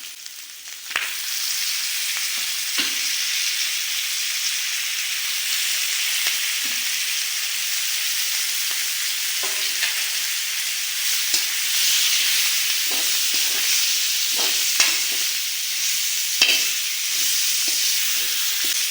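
Chicken fries in a pan for pepper chicken, a constant close sizzle with occasional clinks and scrapes as the pieces are stirred.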